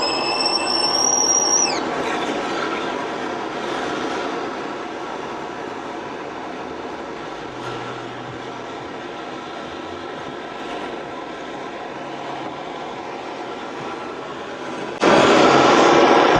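A petrol camping stove burns at full flame, giving off a steady, loud roaring hiss that carries on unbroken throughout, with no talking.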